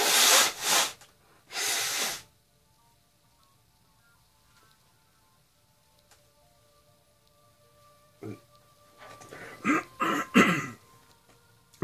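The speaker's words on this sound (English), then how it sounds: "Let me blow my nose here." A loud nose blow or two near the start, then quiet, followed by a burst of sniffing and snorting toward the end.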